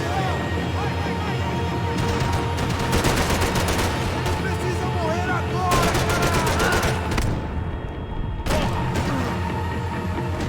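Gunfire in Max Payne 3, with dense rapid bursts and repeated loud shots crowding together and stopping briefly near the end, heavy and close, with voices talking underneath.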